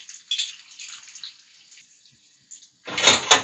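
Pasta water is poured into a pan of oil while making carbonara: a steady sizzling hiss, then a loud, close burst of splashing and sputtering near the end.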